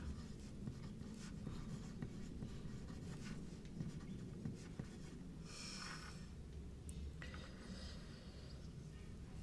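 A fountain pen with an 18-karat gold nib scratches softly across paper in faint, continuous strokes, quiet and close, with light breathing and small handling noises in the background.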